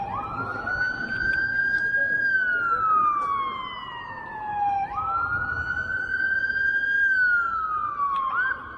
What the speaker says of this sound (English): Ambulance is entering the square.